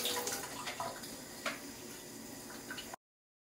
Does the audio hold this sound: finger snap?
no